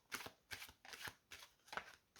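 Tarot or playing cards are shuffled close by and quietly, with five soft riffling bursts at a steady, unhurried rhythm and no talking over them.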